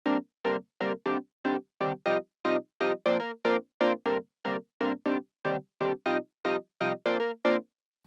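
Synth chords played back dry in Cubase with no effects: a steady run of about twenty short, evenly spaced chord stabs, clear and close, with brief silences between hits and no talk.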